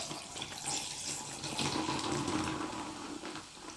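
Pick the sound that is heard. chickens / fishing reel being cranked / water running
water running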